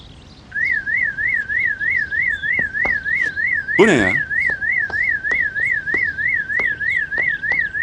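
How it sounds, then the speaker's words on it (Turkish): A car alarm wails in a loud, fast warbling whoop, repeating evenly without pause; a person briefly speaks partway through. "Postanızın alarmı."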